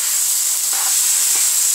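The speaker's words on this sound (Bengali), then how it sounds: "আমার কচু প্রায় হয়ে এসছে, আর কিছুক্ষণ দুই তিন মিনিট নাড়বো" Taro greens cooking with a hilsa fish head in a pan give off a steady, close hiss of sizzling and steam, with a couple of soft stirring scrapes and no talking.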